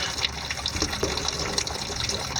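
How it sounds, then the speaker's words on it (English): Fuel draining from the water separator drain of the fuel filter on a Ford F250 with the 6.7 diesel, a steady close liquid trickle and gush running continuously without talk. "And this is the drain for this fuel filter, your water separator."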